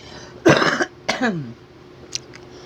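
Two sharp coughs close to the microphone, one after the other, followed by a faint throat sound in an otherwise quiet room.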